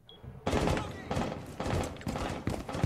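Rapid bursts of gunfire in Rainbow Six Siege, loud and close, coming in repeated volleys over a few seconds, with a faint voice underneath.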